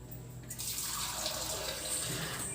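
Water runs from a tap or is poured into a pot of rice while making tomato bath, a soft splashing stream that starts after a quiet moment and flows steadily.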